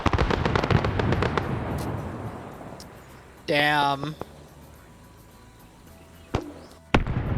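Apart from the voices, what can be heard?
explosions in a video game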